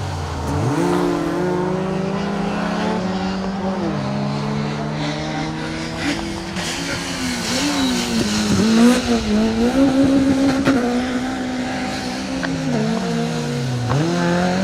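Rally car 48, a Nova, drives a special stage at the Colin Ellmore Memorial Rally, its engine rising and falling through gear changes and revs, loud and close, with bursts of hard acceleration and no talk.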